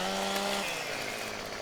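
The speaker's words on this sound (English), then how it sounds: "we'll hop on and turn the chainsaw on, and we'll be cutting this one down" A chainsaw in Farming Simulator 17 runs loud and steady as it cuts down a tall tree, its buzzing drone holding briefly at a high pitch and then dropping to a rougher, lower whine.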